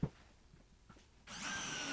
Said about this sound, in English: You simply drill a hole into the side with a tapered drill bit.